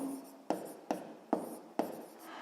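A pen writes out Hooke's law during a 7th-grade physics lesson, giving four sharp taps with soft scratching strokes between them, close and quiet.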